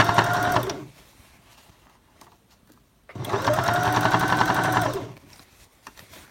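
Two close bursts of a sewing machine stitching around a drawstring bag: a short run, a pause of about two seconds with faint handling noise, then a longer steady run of rapid needle strokes.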